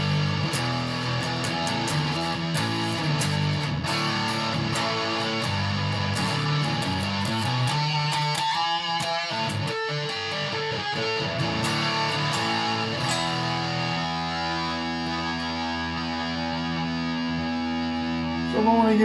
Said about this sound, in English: my distortion based on an MXR distortion plus 2 gain